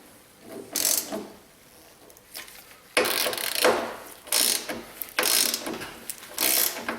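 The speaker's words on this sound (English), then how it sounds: "we'll just tighten up these brackets" A ratchet tightens side step brackets on a Chevy truck in bursts of close, crisp pawl clicking, with short pauses between the runs of cranking.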